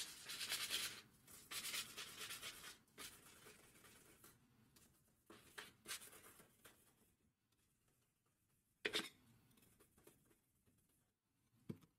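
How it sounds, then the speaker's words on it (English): A sanding block rubs along the edges of a craft snowflake in short, soft scratchy strokes that come in bursts with pauses between, close and fairly quiet. "I'm going to take my sanding block, and I'm just going to give it a little sand, kind of soften up those edges"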